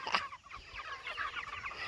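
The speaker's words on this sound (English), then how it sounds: "look at the size of that rooster" Meat chickens and a large rooster cluck in a farmyard, a dense overlapping chorus of short clucks and chatter, moderately close and continuous, with no talk.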